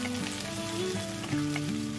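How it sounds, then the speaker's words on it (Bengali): About 200 grams of onions sizzle in hot oil over a wood-fired stove, giving a continuous crackling sizzle with a steady low tonal hum underneath and no talk. "তেলটা গরম হয়ে গেছে। এখানে আমি ওই 200 মতন পেঁয়াজ নিয়েছি, 200 গ্রামের মতন পেঁয়াজটা দিয়ে দেবো।"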